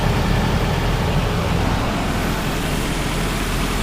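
A Nissan Hardbody truck engine idles with a steady, low rumbling drone and broadband mechanical noise, close and continuous throughout without any talking.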